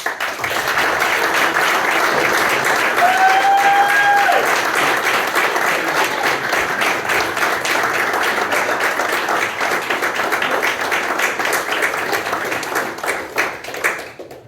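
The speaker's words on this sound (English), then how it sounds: "ask you all for a round of applause" A hall of fame ceremony audience applauds in a loud, sustained wave of clapping that carries on for about fourteen seconds before thinning out, with a brief voice or whistle briefly rising above it early on.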